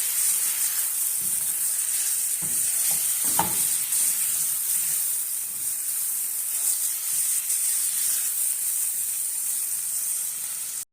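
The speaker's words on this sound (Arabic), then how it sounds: "تشويحه لحد ما لون الكبده يتغير معانا." Liver stir-frying in a hot pan, giving a constant loud hissing sizzle throughout, with a few brief clinks and scrapes of stirring early on, close up and without talk.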